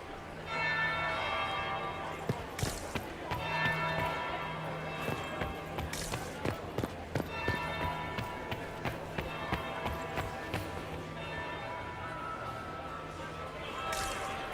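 Church bells toll repeatedly in a fantasy role-playing game, sounding as a steady, moderately loud peal with sharp clanging strikes throughout, under game voices and background ambience.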